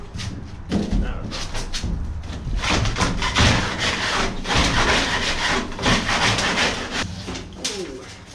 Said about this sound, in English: I'm gonna take this big scraper and try and scrape all the foam off